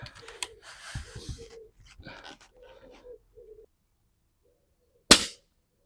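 A single sharp shot from an Air Arms FTP900 air rifle firing a pellet on an HFT range, loud and isolated after several seconds of quiet speech.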